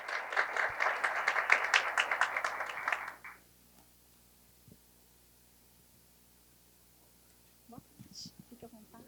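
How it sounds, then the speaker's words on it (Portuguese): An audience at a corporate company presentation claps for the CEO as he comes forward, about three seconds of dense clapping that stops suddenly. Near silence follows, then faint handling noises and brief murmurs. "Uma salva de palmas"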